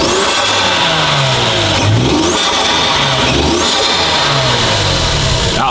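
A Toyota Aristo's 2JZ turbo engine revs loudly and steadily nearby, its pitch rising and falling in repeated swells with no talk over it.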